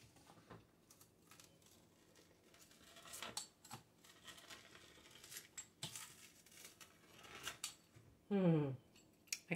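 Carnivore cracker dough being cut into pieces on a tray: faint, sparse taps and scrapes of a knife or cutter, with a brief tonal clink near the end in a quiet kitchen.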